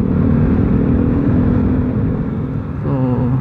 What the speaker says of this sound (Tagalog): Hindi ko alam kung anong motor yun eh. Pero lakas. Lakas din ang muffler niya.